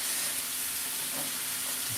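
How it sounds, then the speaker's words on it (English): Chicken sizzles steadily in hot oil in a pan during a live home cooking session. The hiss is close, dense and continuous, and no one talks over it. "You hear that sizzle? That's a good sign. That's the sizzle you want to hear."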